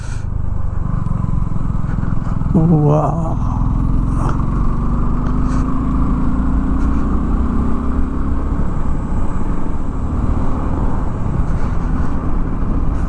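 A Suzuki V-Strom motorcycle ridden on the Malshej Ghat road, with a loud, steady engine drone and wind rush throughout and a brief vocal exclamation early on.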